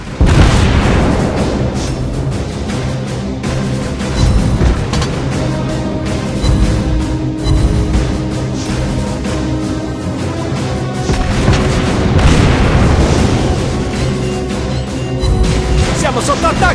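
Naval artillery fire and shell hits boom repeatedly during a World of Warships Blitz destroyer match, loud heavy explosions layered over continuous game music and engine rumble, with an Italian game announcer voice calling out events.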